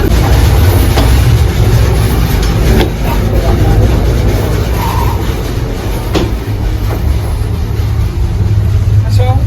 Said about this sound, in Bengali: যমুনা সেতুর উপর দিয়ে ট্রেন যাচ্ছে